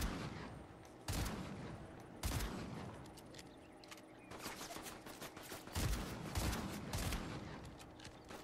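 Gunfire in the video game Fortnite: several loud, sharp bursts and single shots spread across the stretch, separated by quieter gaps of game ambience.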